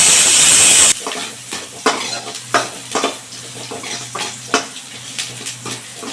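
Onions sauté in oil with mustard seeds and urad dal for peanut chutney, opening with a loud sizzle and followed by repeated, rhythmic spoon-stirring scrapes over a softer frying hiss, close by.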